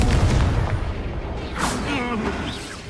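Confringo fire spell blast in the video game Hogwarts Legacy, a deep booming explosion with rumbling low end and crackling debris, loud and close, mixed with game sound effects.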